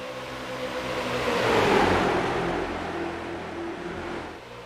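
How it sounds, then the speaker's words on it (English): Street stock race cars run laps at full speed around an oval track, a loud steady engine roar that swells to a peak as the cars pass close, then holds as a sustained drone. "fire it up, and let you hear these cars go around here at full song"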